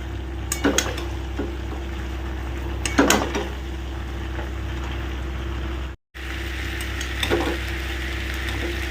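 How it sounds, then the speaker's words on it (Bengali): Raw green banana and prawns being stir-fried together in a pan, a steady low sizzle broken by several sharp scraping stirs of a spatula and a brief cut-out near the middle. "এইবার কলাটা কাঁচকলাটা দিয়ে দেব দিয়ে ভালো করে এবার কষিয়ে কষিয়ে রান্না করতে হবে"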